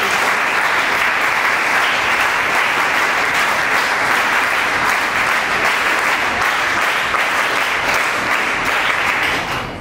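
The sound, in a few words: audience applause at ceremony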